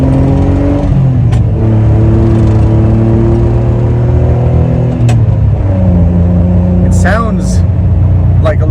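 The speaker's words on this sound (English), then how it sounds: "V6 Maserati engine, designed specifically for this car" A Citroen SM's Maserati V6 engine revs and shifts through several gears, pitch rising and dropping repeatedly, loud and close, with a brief high squeal near the end.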